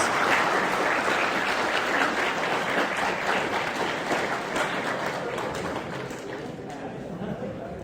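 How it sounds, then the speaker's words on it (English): Audience applause after a talk on fighting game design at a game event, broad sustained clapping from a crowd that fills the whole stretch and eases slightly toward the end. "I will now accept applause"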